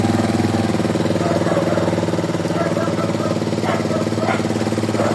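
A Rusi Flash motorcycle engine, just restored after a blown 15-amp fuse, runs at a steady idle with an even, rapid low throb and mechanical vibration throughout, close and fairly loud.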